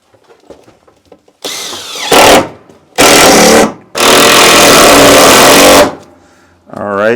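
Power drill driving screws into an electrical panel board, three loud whirring bursts of rising length with short gaps, close by, after quiet background talk and followed by a voice.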